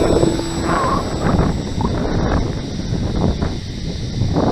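Custom-built Angry Bird V3 RC flying wing on its maiden flight at about three-quarter throttle: a steady motor drone mixed with heavy wind buffeting on the microphone, loud and continuous throughout.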